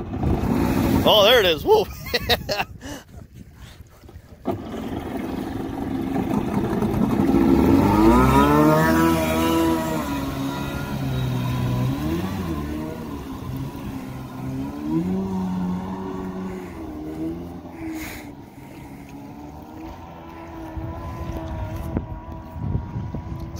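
A Kawasaki JS550 jet ski engine revs under throttle, its pitch rising and falling in sweeping surges that build loud around the middle and keep droning, with wind noise and a few excited voices over it.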